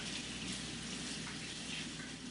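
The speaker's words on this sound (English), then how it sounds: "I'm gonna rinse these hands" Tap water runs steadily over hands into a sink, a close, even rushing hiss with no voices.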